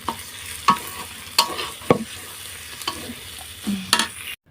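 Oil for bhorta frying with cumin seeds in a pan, a spoon scraping and stirring in several distinct strokes over a steady low sizzle, close by with no voices.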